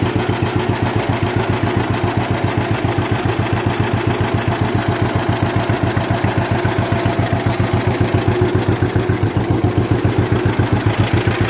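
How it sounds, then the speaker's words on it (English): A 1948 Cyclone B engine runs steadily at idle after 30 years unused, its rapid even firing pulses close and loud throughout with no talk. "1948 Cyclone B. First time running in 30 years."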